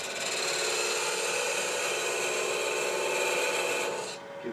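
A lathe gouge cuts a spinning wooden blank for a shawl ring and pin at about 1,000 rpm, giving a steady, close, hissing rasp that runs for about four seconds before easing off.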